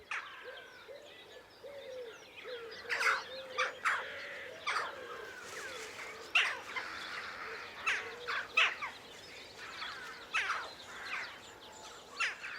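A flock of jackdaws calls with sharp, repeated chak notes, scattered and overlapping at mid distance, with no other sounds around them.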